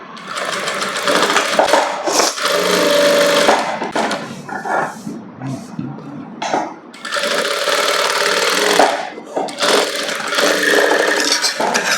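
A sewing machine stitches around a blouse neckline for a princess-cut blouse, running close and steady in several long bursts separated by short pauses, with no talking.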